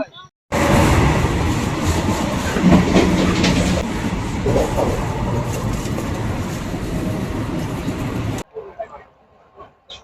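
A Vande Bharat Express train rumbles along at speed, loud and continuous with a rattling clatter of wheels, then cuts off abruptly to near quiet.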